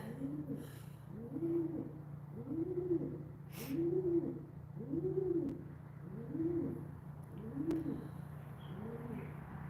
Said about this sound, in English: This bird's annoying me.